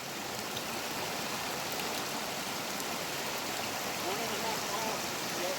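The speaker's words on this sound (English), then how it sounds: "It's raining a lot." Steady rain falls on a mountain hiking trail, a continuous broadband hiss of drops close around the listener, even and unbroken throughout with no distinct voices.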